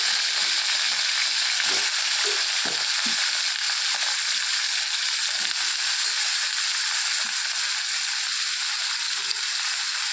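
Brinjal pieces frying in hot oil in a pan for an eggplant and cucumber chutney, giving a constant loud hiss broken by scattered soft stirring knocks.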